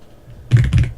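Keyboard typing starts about halfway through, a burst of quick, clattery keystrokes close to the mic after a quiet moment.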